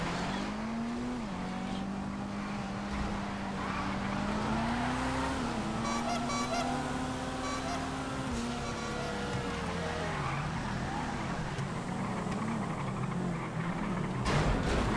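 Drift car racing in GTA FiveM, with a steady engine drone and long sustained tire squeal and skidding throughout, close and continuous, no talking.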